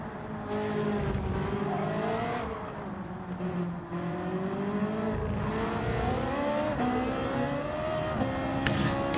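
A mid-engined Ferrari 458 Italia drives in Gran Turismo 7, the engine holding a steady loud tone that rises and falls through upshifts and throttle lifts, with faint tire noise underneath.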